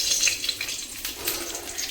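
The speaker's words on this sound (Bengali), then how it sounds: "তেল গরম হয়ে গেলে তার মধ্যে দিয়ে দেব কালো জিরে আর কাঁচা লঙ্কা" Black cumin and green chillies fry in hot oil, a steady close crackle and hiss that holds evenly throughout without speech.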